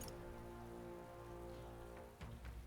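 Steady rain falls in the video game Metaphor: ReFantazio, an even, hissing patter on surfaces that continues throughout, with soft tonal game music sustained underneath.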